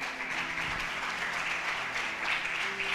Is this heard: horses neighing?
no